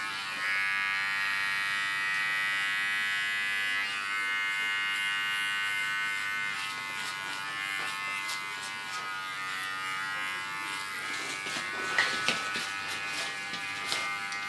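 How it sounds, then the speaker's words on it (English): Small electric hair clipper cleaning up the contour line of an ultra-short haircut, a steady close buzzing hum that runs continuously, fading slightly midway, with faint clicks and brushing near the end. "With a small clipper I clean the contour line."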